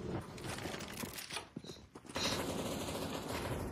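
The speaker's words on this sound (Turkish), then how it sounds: "Evet, arkada çatışma var." Rapid bursts of automatic gunfire in a CS:GO firefight, dense crackling volleys that dip briefly before resuming loudly, with no talk.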